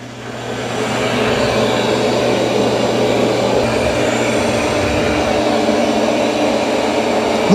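A Roborock robot vacuum and mop cleaning a kitchen floor, heard as a steady, loud whirring hum with a constant low drone that runs without a break and nobody speaking.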